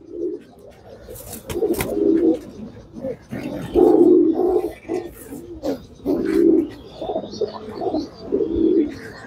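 Champion racing pigeons in a tournament loft coo in repeated low, throaty bursts, several calls close by, with some background noise between them.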